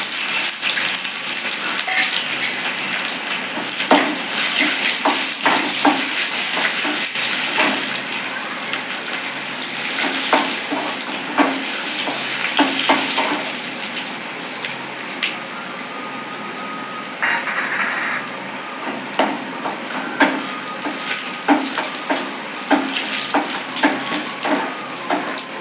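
Onions and dried red chillies fry in oil over popped mustard seeds for a Tirunelveli paruppu kulambu, a steady close sizzle with crackling spits and scraping stirs throughout, no talk.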